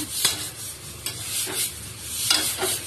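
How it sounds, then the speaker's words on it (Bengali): Cauliflower and soybean curry frying in oil in a pan, stirred with a few distinct scraping strokes over a steady close sizzle, with no talking. "ভালো করে নেড়ে চেড়ে কষিয়ে নেবো যতক্ষণ না চারিদিকে তেল ছেড়ে আসছে"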